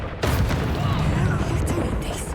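A Confringo explosive spell from the Hogwarts Legacy video game goes off with a sharp blast and a rumbling tail, and a voice talks over it.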